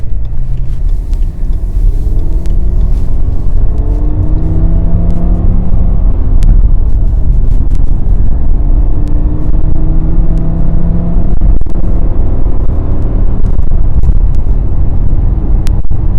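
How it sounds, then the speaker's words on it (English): A BMW M5 with an SMG III gearbox pulls away in first gear. Its loud, steady engine drone rises in pitch through the revs, with a constant in-cabin rumble and no talk. "Okay, automatic mode, 5th setting, pulling away 1st gear."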